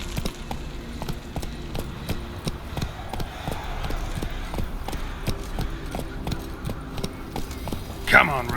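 Roach the horse gallops through The Witcher 3, hooves clip-clopping in a steady rapid rhythm under game music, with a short bright burst near the end.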